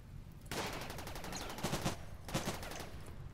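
Gunfire in the video game RimWorld, two bursts of rapid automatic shots in quick succession, moderately loud and crackling, with a quiet background in between.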